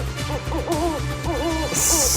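An owl hooting sound effect plays loud and close, a series of wavering hoots in two groups over music, ending in a burst of hiss-like noise.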